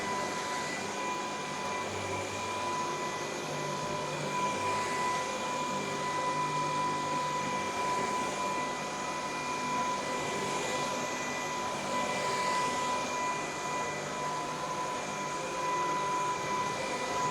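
A vacuum cleaner runs continuously with a steady motor whine and airflow hiss, even and unbroken throughout, close and fairly loud with no talking over it.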